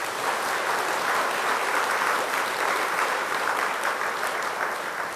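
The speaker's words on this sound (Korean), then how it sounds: "한번 크게 박수 보내주세요" Steady, dense applause from a temple audience at a Buddhist dharma talk, greeting a monk who has just stood up; loud and continuous for the whole stretch with no talking over it.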